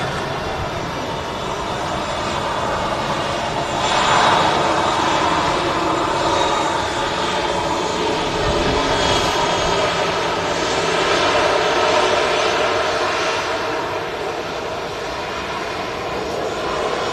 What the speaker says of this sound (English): The Emirates is pushing back here.